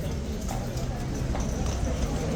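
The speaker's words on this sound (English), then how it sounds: "he's brought the horse out a couple of times to clear the crowd away" Hooves from a horse brought out by guards to clear a crowd clop through a dense wash of crowd noise and talk, the individual steps hard to pick out beneath the din.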